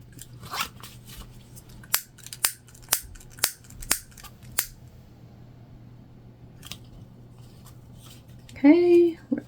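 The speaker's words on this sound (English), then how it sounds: "I'm just trimming up our threads." Scissors snipping threads on a freshly sewn fabric bag, six crisp close cuts in a steady rhythm followed by a couple more, with a voice speaking at the end.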